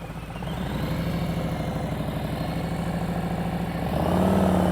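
A motorcycle engine runs steadily at low revs during slow speed clutch control practice in the friction zone, a close, pulsing mid-pitched drone that swells slightly near the end as the throttle opens.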